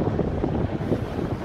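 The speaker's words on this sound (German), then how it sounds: "Ja, es ist ein bisschen windig hier, ein bisschen sehr windig." Steady wind rushes and rumbles against the microphone, a dense continuous roar with no voices.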